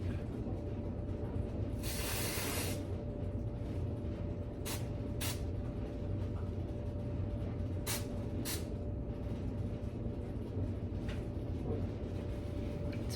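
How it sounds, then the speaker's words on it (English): Short hairspray aerosol bursts hiss up close: one longer spray, then several brief puffs spread out over a steady low background hum. "I'm gonna pick that up, spray it with some hairspray."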